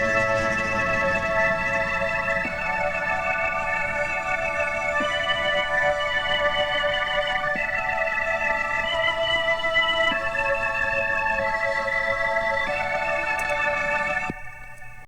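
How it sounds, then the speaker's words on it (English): A synth pad layered with a stock organ under tape saturation plays a last-chorus chord progression, sustained chords shifting every couple of seconds, full and steady, then cutting off near the end with no voices. "So I've combined that pad with the organ in that last chorus with the tape saturation."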